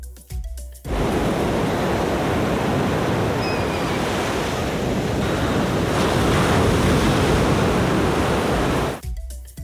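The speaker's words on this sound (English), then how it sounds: "you have officially made it to Black's Beach" Surf at Black's Beach in San Diego, California, a continuous loud wash of breaking waves mixed with wind buffeting the microphone, with no voices.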